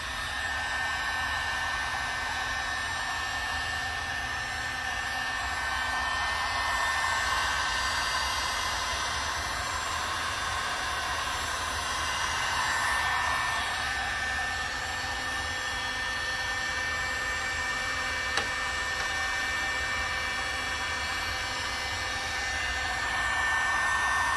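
A heat gun blowing hot air onto heat-shrink wrap around a hose clamp fitting, a loud, constant close-up fan roar and hiss with a steady whine that runs without a break and has no talking over it.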